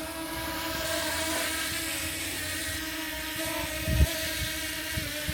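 A DJI Mini 4K drone descends to land near a pond, its propellers giving a steady, loud, even whine throughout, with a brief thump near the end.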